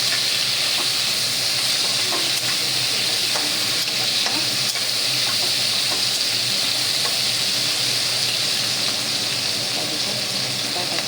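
Onions fry in the oil left from frying chicken, a loud, steady, close sizzle and hiss that runs throughout, with faint stirring scrapes underneath.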